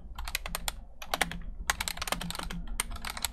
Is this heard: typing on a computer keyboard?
yes